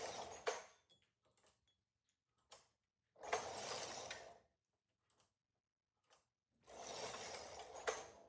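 A knitting machine carriage sweeps across the needle bed in a free pass, giving two main rattling, sliding runs with small clicks and ticks between them in an otherwise quiet room.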